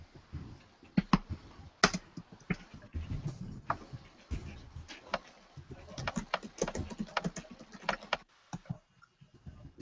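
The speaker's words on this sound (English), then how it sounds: "I hear some typing" Irregular bursts of keyboard clicks, like someone typing at a moderate pace, fairly close and sporadic with short pauses, with faint background noise, during an online meeting.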